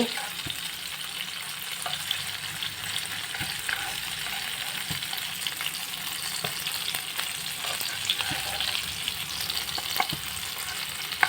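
Fish fries on a hot tawa with a constant, dense sizzle and crackle throughout, close up, with occasional light scraping taps.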